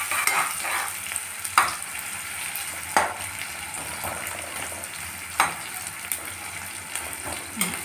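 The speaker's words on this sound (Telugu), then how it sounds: "ఉల్లిపాయలు కాస్త ఎర్రగా వేగాలండి." Onions and green chillies frying in hot oil in a pan, a steady close sizzle with a few sharper stirring clatters at irregular intervals, no voices.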